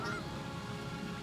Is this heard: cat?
no